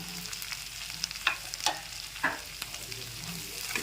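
Spice paste for a bhola fish curry frying in a pan, a soft steady sizzle broken by a few sharp spoon scrapes and clicks as it is stirred, close and fairly quiet, with no voices.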